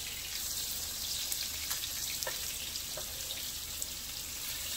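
A snapper fillet fries in a pan, a steady, moderately quiet hiss of sizzling oil with a few faint pops and crackles, heard close with no talking.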